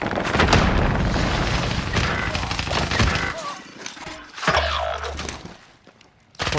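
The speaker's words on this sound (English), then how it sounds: "Throwing frag." A frag grenade goes off in a video game set in a Hamburger Hill battle, one heavy boom within a dense spell of gunfire and explosions while players talk over the noise.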